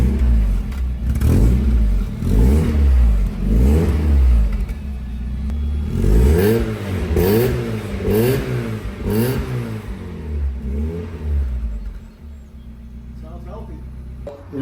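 A Mazda Miata engine fitted with a louder aftermarket muffler revs repeatedly in strong, throaty bursts, rising and falling several times close by before settling toward idle, with people talking around it.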